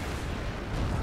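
Rocket explosions in a video game roll together into one dense, continuous rumbling barrage, loud and unbroken for about a second.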